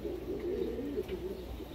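A pigeon, a Japanese breed, coos in low, steady murmuring tones that run without a break, close and moderately loud, with no talk over it.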